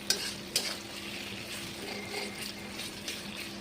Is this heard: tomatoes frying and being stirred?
yes